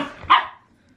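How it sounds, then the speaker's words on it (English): A single sharp dog bark rises out of fainter background yapping and fades quickly into near quiet, close and fairly loud. "Here are the dogs."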